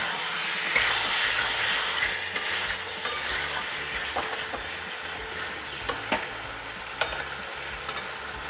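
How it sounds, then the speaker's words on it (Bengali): Mutton keema with yellow peas being sautéed in a pan, a soft steady sizzle punctuated by sharp spatula knocks and scrapes at irregular intervals, close by, with no one talking. "কষে নিতে হবে।"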